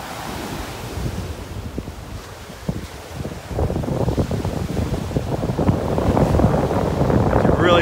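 Wind gusting on a beach in North Naples, Florida, with surf rolling in beneath it, rising to a louder, steady rush in the second half.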